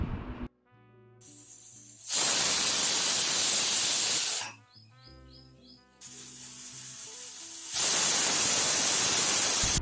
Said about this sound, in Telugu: కుక్కర్ టూ విజిల్స్ వచ్చే వరకు చూడాలండి